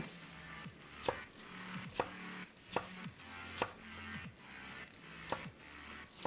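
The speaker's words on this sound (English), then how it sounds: "I push down with the tip of my knife first, and then follow through with the rest of it." A knife chops vegetables into a fine brunoise on a board, with about seven evenly spaced crisp knocks at a steady, unhurried rhythm. Each lands close and distinct over a quiet room, and nobody speaks.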